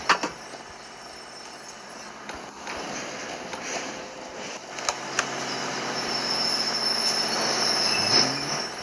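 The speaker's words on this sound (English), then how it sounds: "Yippee, train's here." A train in the video game Hello Neighbor rolls in with high, drawn-out squealing wheels and metallic rail clatter, growing a little louder toward the end.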